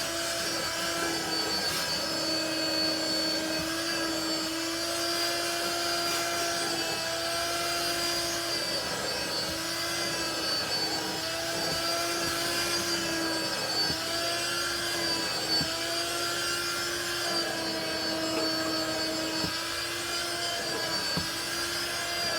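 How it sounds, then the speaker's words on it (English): A Bissell extraction machine cleaning upholstered furniture with white vinegar gives a loud, continuous whining motor drone with suction noise that barely changes throughout. "you would run the machine this way and extract up"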